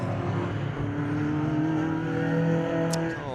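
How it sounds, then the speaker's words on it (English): Modified Ford race cars at Cadwell Park idle and rumble steadily as they roll around toward a rolling start, several engines droning together with layered harmonic tones at close range and no talk. "Cars head around to the rolling start."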